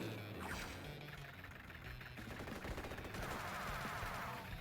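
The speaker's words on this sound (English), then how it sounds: "Blue would just rather fire the artillery there" Artillery fires in the Advance Wars: Days of Ruin video game, a burst of crashing, gunfire-like blasts and impacts, fairly faint and without talk.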